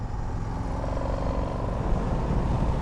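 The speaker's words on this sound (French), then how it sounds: "Le moteur grogne un petit peu," An Indian FTR 1200 S Race Replica motorcycle engine rumbles low and steady, a continuous throaty growl with no pauses, heard up close.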